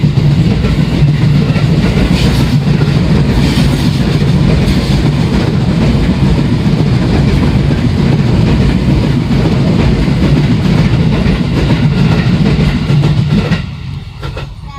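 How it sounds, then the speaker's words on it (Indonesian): A train rolls past close by, a loud continuous rumble with rhythmic clattering of wheels on rails that holds steady, then drops away abruptly at the end. "Kereta lagi."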